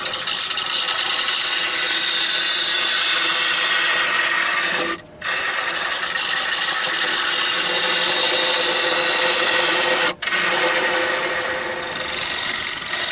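A wood lathe gouge rides the bevel around a spinning workpiece, a steady, loud, broadband hiss of cutting that runs almost without pause, broken by two brief dropouts where the tool lifts off.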